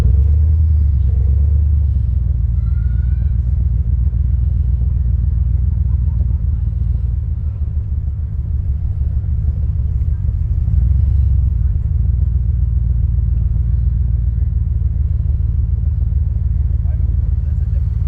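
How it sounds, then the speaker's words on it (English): Black Corvette carrying passengers on a ride from a car show in Upper Sandusky, Ohio, its engine rumbling low and steady throughout while people talk inside the cabin. "Going on a joyride, guys, in a Corvette"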